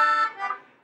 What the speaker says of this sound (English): people started singing in parallel fifths, which sounds like this.